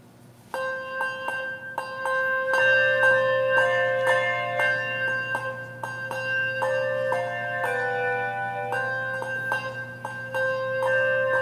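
Several bells ring together at a graduation worship service in a bright, overlapping peal, tones sustaining and layering continuously at moderate volume with a low drone underneath.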